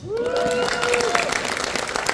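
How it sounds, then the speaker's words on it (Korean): Brief applause from a seminar audience, a short burst of clapping with a few voices rising over it, fairly loud and close, lasting about two seconds. "박수 치셔요."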